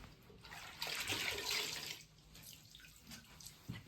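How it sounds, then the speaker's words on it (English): A brush is dunked in water before saddle soap is worked onto a saddle, giving a soft, faint splashing swish that swells briefly and then fades. No speech. "I dunk my brush and I get some saddle soap."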